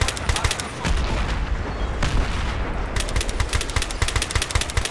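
Rapid bursts of automatic rifle fire in Battlefield 3 on Wake Island, with dense overlapping shots and some distant booms in a steady, near, loud battlefield din.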